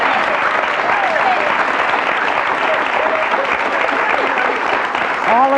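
A talk-show studio audience gives sustained, loud applause for guest Dr. Lorraine Hale, dense continuous clapping with faint cheers and voices mixed in.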